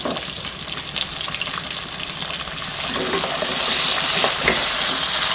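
Garlic, onion and tomato sauté in a pan for a vegetarian brinjal dish, with a loud steady sizzle and stirring scrapes that grow fuller and hiss more partway through, and no talking.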